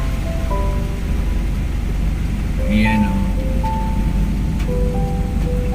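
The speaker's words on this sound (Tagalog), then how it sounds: "Umuulan, malakas ang ulan, no?" Dense, steady hiss of heavy rain pouring down, constant and loud, with a voice speaking briefly over it and a few tonal chirps in the background.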